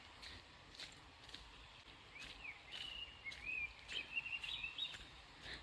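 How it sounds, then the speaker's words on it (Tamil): A small bird singing in a tree on a hillside where workers cut fresh leaf tips, faint, thin warbling chirps and trills in the distance over soft outdoor rustling and occasional light taps. "ஒரு குருவி பாட்டு பாடுது"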